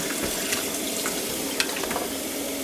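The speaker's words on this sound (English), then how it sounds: "Wash your meat. Don't beat the meat, wash the meat." Tap water runs steadily into a kitchen sink while meat is washed under it, a continuous close hiss with a few faint clinks and splashes, no talking.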